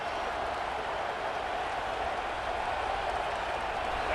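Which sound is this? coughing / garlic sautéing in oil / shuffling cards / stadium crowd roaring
stadium crowd roaring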